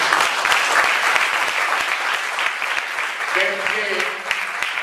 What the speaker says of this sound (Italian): Io direi di farvi un applauso